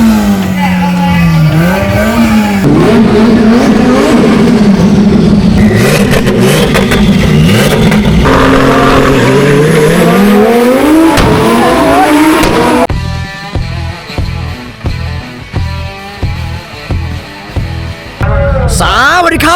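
Powerful cars race flat out at a Fight Night Club street car meet, engines screaming through long rising and falling revs with tire squeal, then staccato bursts of revving, loud and close throughout.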